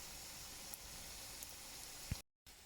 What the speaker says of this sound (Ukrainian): як шкорчить, уже все досмажила